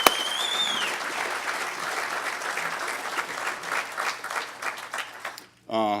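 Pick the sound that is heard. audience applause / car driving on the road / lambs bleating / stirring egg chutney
audience applause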